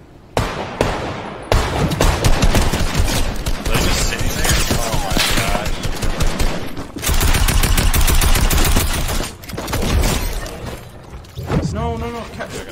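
Rapid gunfire crackles almost continuously in a Fortnite Battle Royale duos match, loud and close, with dense bursts and brief gaps, while the players talk excitedly over it.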